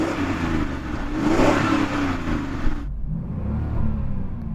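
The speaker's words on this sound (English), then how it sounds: "can you rev up your car and let us hear its W12 engine?" A powerful Bentley W12 car engine revs up loudly, swelling to a deep roar, then settles into a lower rumbling idle with a brief second rise.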